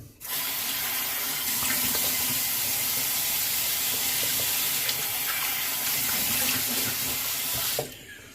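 Tap water pouring steadily into a sink, a loud, close and continuous rush with faint splashing, used for rinsing off after a shave, running for several seconds before cutting off.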